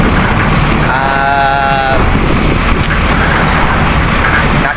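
Truck driving along the road heard from on top of the vehicle, a loud continuous roar of engine and rushing wind, with a brief bleat-like tone partway through.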